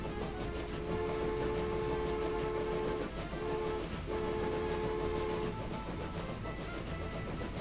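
A train horn sounds twice in the Transport Fever video game, each a sustained tonal blast of a second or two over a steady roar of rolling train noise.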